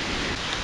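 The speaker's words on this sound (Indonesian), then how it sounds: "Hujan deras." Heavy rain pours down outdoors as a steady, dense hiss with no pauses, loud and close throughout.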